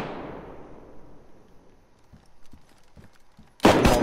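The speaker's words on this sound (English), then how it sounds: "They're both shooting." Gunfire in the DayZ video game, with a decaying distant blast, several sparse faint shots in a loose rhythm and then a sudden loud close burst of shots at the end.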